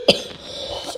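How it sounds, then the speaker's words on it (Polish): A single short, sharp cough from a person who is somewhat ill, close and loud, followed by a brief faint tail of breathy voice. "mogę trochę kichać, mogę trochę kaszleć"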